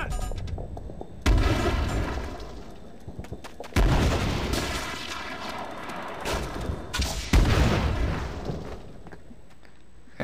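Bouncing Betty mines going off in Call of Duty: World at War on the Wii during a team deathmatch on the Upheaval map, with three heavy booms a few seconds apart, each fading into rumbling noise.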